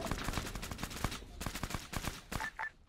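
Rapid gunfire in the military video game Arma during a large multiplayer milsim battle: close, repeated shots in fast bursts, sharp cracks tumbling over one another before thinning out near the end.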